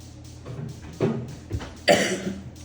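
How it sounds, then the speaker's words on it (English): A few short coughs, close and fairly loud, with a harsher burst near the end over quiet background noise. "Sorry for coughing in your ear."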